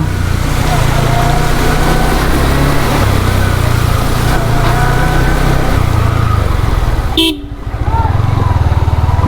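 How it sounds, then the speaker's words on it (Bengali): A motorcycle rides through deep floodwater on a flooded local street, its engine droning loudly and steadily up close, with a horn tooting briefly near the end and a voice talking over the ride. "এদিকটা প্রচুর পানি তো বাইকটা ওয়াশ করা হয়ে গেল"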